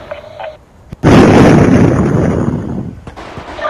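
In Battlefield: Bad Company 2, tank fire lands in a loud, close explosion: a hard blast followed by a long rumbling roar that slowly fades, with small gunfire pops before it.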